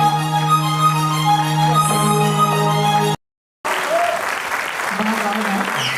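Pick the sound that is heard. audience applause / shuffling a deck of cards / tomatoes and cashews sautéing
audience applause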